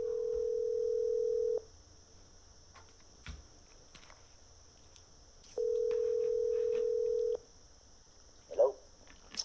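Steady telephone dial tone placed while ringing a guest for a live renovation call-in radio show, two long tones about four seconds apart with quiet room noise between and a faint click or blip near the end.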